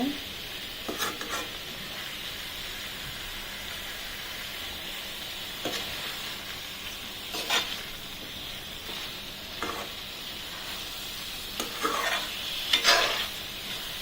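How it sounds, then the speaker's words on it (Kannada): Masala for a potato gravy (kurma) fries in a pan with a continuous soft sizzle, broken by occasional scrapes and clinks of the spoon as it is stirred; no one speaks. "ಈಗ ಫ್ರೈ ಆಗಿದೆ."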